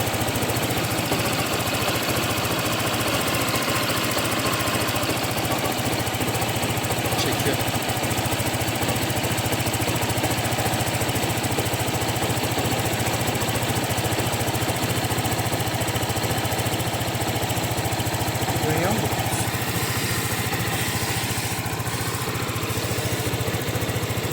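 A Seha 150 motorcycle engine idles steadily during an antifreeze change, a constant close mechanical rumble with a faint voice now and then.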